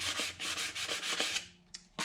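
Rhythmic sanding strokes scrape back and forth across a wooden Lee Enfield rifle stock, several close, scratchy passes, then a pause and a couple of short final rubs.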